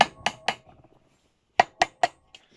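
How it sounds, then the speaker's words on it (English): A hammer taps a swing arm bearing removal tool on a Harley-Davidson Sportster. Sharp metallic strikes fall in two quick groups of three, close and ringing, with a faint tap at the end. "Use a hammer. I'm just going to tap the lower tool just to get it central"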